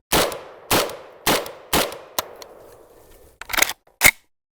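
Five sharp pistol shots from a handgun fitted with an Olight OSight red dot ring out at a steady pace, each with a short echoing tail, followed by a pause and two smaller, sharper impacts.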